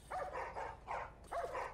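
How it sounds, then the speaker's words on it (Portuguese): Dogs in The Last of Us video game bark in four quick, moderately faint bursts from a short distance, with no talk over them. "Olha, cachorro aí, cachorrada aí, ó."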